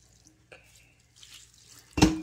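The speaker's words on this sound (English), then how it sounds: "You never really want to pour the water in like so, but I just did it to rinse out the bowl." Rinse water from a bowl pours onto shredded paper bedding in a 10-gallon red wiggler worm compost bin, with faint drips and trickles building to a short, close splash at the end.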